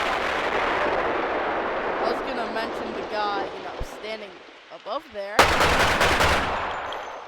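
Loud explosions and rapid gunfire from the Decovenant video game roar continuously, with heavy blasts and a sharp burst near the end, while someone talks over the action.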